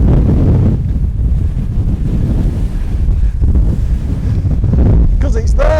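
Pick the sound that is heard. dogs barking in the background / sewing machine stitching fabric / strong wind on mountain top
strong wind on mountain top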